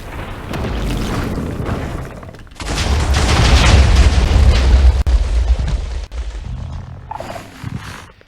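A Minecraft explosion near an emerging Warden in snapshot 22w19a: a big, loud roaring blast that swells and sustains for several seconds, with a rumbling lead-in and crackling debris afterward.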